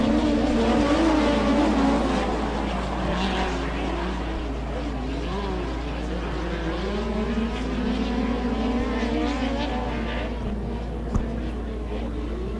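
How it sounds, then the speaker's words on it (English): USAC midget race cars at Canyon Park Speedway give a loud, continuous engine drone that rises and falls in pitch as they circle the track, with an announcer talking over it. "Markham and Schutte go side by side in turn number 3."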